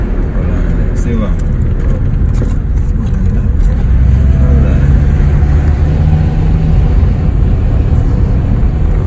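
A car driving along a road in Portland, Jamaica, with a constant loud engine and road rumble and people talking inside throughout.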